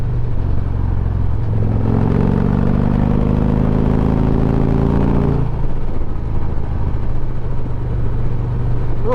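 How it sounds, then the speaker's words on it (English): A Victory Cross Country motorcycle engine drones loud and steady in a low rumble, its pitch climbing smoothly as the bike pulls under acceleration, then settling back to an even cruise. "the way this bike pulls now is just beautiful. It's so smooth."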